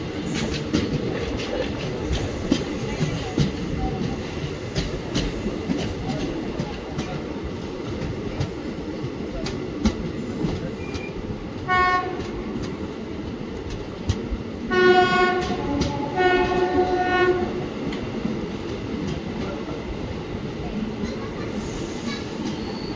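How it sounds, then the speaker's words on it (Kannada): A Dharwad–Solapur passenger train pulls into Bagalkot station in the Hubli division of South Western Railway, its steady rumble filling the scene as the horn sounds in bursts, with a faint voice now and then. "ಧಾರವಾಡ ಸೋಲಾಪುರ ಪ್ಯಾಸೆಂಜರ್ ಟ್ರೈನ್ ಬಂದೈತ್ರಿ ಈಗ ಬಾಗಲಕೋಟೆಗೆ"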